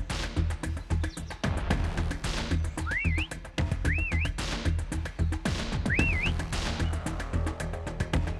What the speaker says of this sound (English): Next whistle in 10 seconds.